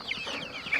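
A chicken clucks briefly, close by, a short burst of soft throaty calls.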